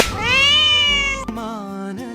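A cat gives one long, loud, drawn-out meow close by, followed by a shorter, softer cry.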